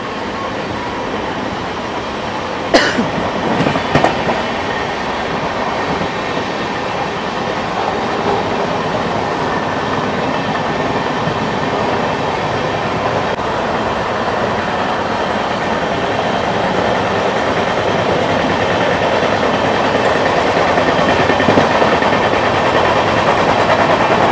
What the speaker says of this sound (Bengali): এবার রাজধানী টান দিয়েছে, রাজধানী এবার এগোচ্ছে।